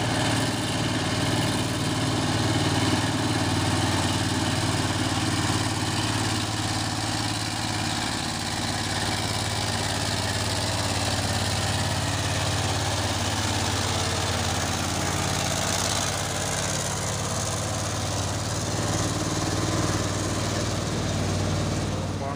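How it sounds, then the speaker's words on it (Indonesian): Heavy trailer trucks labour uphill on a road, a steady deep engine drone rumbling close and continuous throughout, with no talk over it. "Ramai lagi truk-truk yang mau menanjak ini ya"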